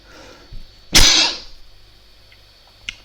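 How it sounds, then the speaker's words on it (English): A single sharp, loud cough bursts out close by, followed by quiet background and a small click near the end. "Coughing a lot on here."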